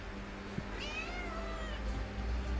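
A kitten meowing once, a short rising-and-falling cry heard fairly close over a low steady background hum.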